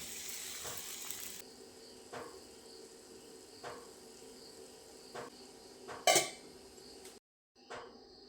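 Batter poured into a hot vellayappam pan, followed by a steady soft sizzle and frying hiss close by, with a few faint clinks of the pan and a brief sharper clatter near the end; no talk.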